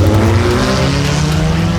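A race car pulling out onto the track for a practice session at a NOS event, its engine a loud, steady low rumble that holds throughout without any talk.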